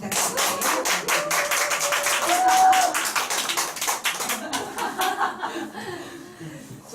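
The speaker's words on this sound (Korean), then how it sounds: "사장님께 박수 한번 부탁드릴게요" At a small Korean nutrition talk, listeners clap in a loose, uneven burst mixed with chuckles and laughter, the claps thinning out into scattered taps toward the end.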